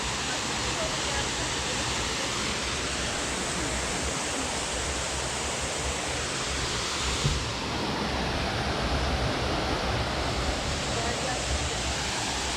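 Sütüven waterfall in the Kazdağları forest roars as a steady broadband rush of falling water, loud and constant throughout with no break.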